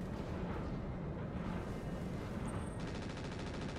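Continuous rattling machine gun fire in the Roguetech BattleTech video game, a dense, steady roar with no pauses, moderately loud with no talking over it.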